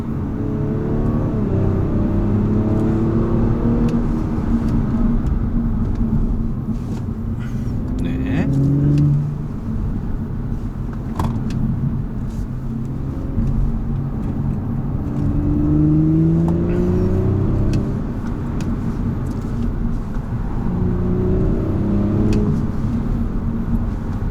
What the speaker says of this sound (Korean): 2500rpm 그 정도에서 그냥 차를 끌고 가는 예, 킥다운을 하긴 합니다만은